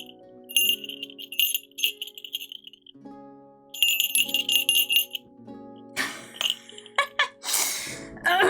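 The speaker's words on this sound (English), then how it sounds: "showcase what it would sound like if you had a bell attached to you the entire time" A small bell jingles in several bright, rapid bursts, separated by pauses, over a soft tonal musical background, ending with busier clinking and rustling.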